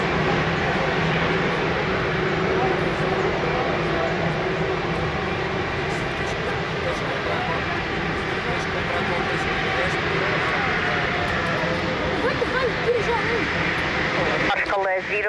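An airliner landing at Lisbon Airport gives a constant broad roar of engine and wind noise that holds steady throughout, with a voice talking over it.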